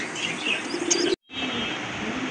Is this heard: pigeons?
yes